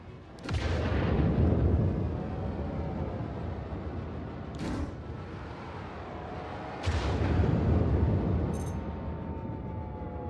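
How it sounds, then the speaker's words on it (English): Heavy rumbling blasts from ship weapons and a missile launch in the space game Star Citizen, two big booming surges a few seconds apart with sharp onsets and long roaring tails, loud and close, plus a softer thump between them. "Try launching a missile again."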